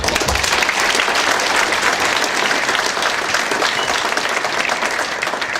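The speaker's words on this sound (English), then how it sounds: "And that deserves a round of applause." Audience applause at a talk about Nevada trails and agriculture, a dense, steady wash of clapping from many hands that fills the whole stretch without pause.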